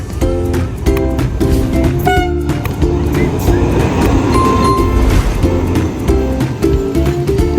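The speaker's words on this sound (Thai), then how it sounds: "รถไฟมาแล้วค่ะ รถไฟขบวนนี้นะคะ จะมุ่งหน้าไปกรุงเทพค่ะ" A train bound for Bangkok, Thailand, arrives at a station, rumbling loudly and continuously close by, with rail clatter and a sustained mechanical roar throughout.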